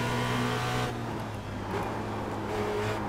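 A Formula Renault race car at Zandvoort in iRacing, its engine humming loud and continuous as it coasts and pulls again, a steady close drone with a brief dip midway.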